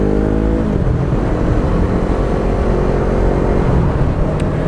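A Ducati 1299 Panigale motorcycle engine roars loud and close, its revving pitch sliding down and then holding a steady, rough drone with no talking.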